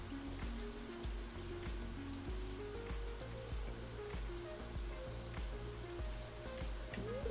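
Soft, steady rain patters throughout in the video game Stardew Valley, under a gentle stepping melodic game music line.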